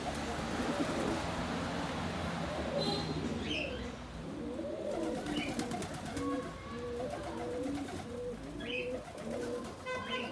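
A red pigeon coos softly in repeated low phrases, with a few bird chirps and light rustling nearby.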